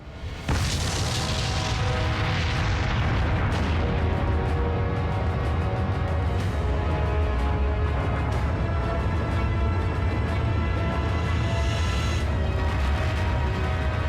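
A large explosion in open desert, rising into a massive sustained boom that rolls and rumbles continuously for over ten seconds, loud and deep with no voices.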